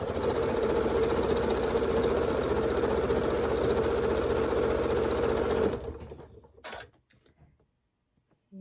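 A sewing machine stitching a quarter-inch quilt seam on a scrap quilt, a loud steady close whir for about six seconds that cuts off, followed by a few faint handling clicks.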